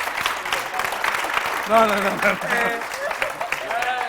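A TV studio audience claps in a dense wash of applause while a few voices talk over it, moderately loud throughout.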